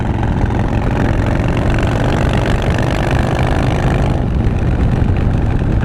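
A big-bore twin cam motorcycle engine idles with a loud, steady, lumpy exhaust rumble, close by, its tone dipping slightly near the end.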